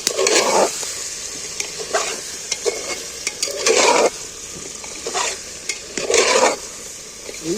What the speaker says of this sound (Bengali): এইভাবে একবার ডিম আর সয়াবিন একসাথে এইভাবে কষিয়ে রান্না করে